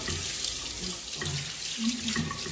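Water runs steadily from a tap, a continuous splashing stream with faint background noise.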